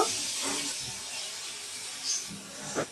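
Garam masala powder, bay leaves and cardamom frying in a pan, a soft steady hiss close by with a couple of faint stirring scrapes, no voice over it.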